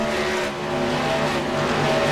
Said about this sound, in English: looks like the 38 car is going to go around off turn 2, and probably a little bit of a victim of getting loose off the corner